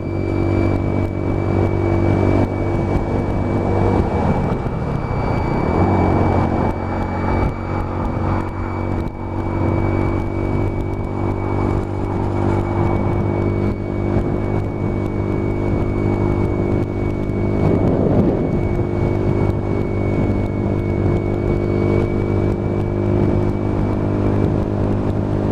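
Lexmoto Tempest GT motorcycle cruising at a steady 40 mph, a constant engine drone with a thin whine running through it and wind rush, loud and unbroken for the whole stretch.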